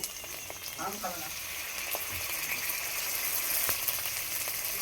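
Ginger, garlic and chili pastes frying with browned onions, a steady close sizzle with scattered stirring clicks and a brief voice near the start.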